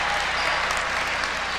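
A basketball crowd on its feet at a women's college game cheers and applauds in a loud, continuous roar with no pauses.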